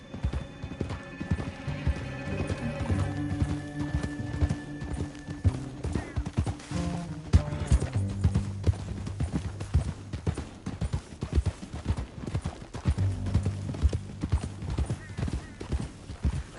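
Several horses gallop in a rapid drumming rhythm in the game Red Dead Redemption 2, with an occasional whinny, mixed with background music and brief voices.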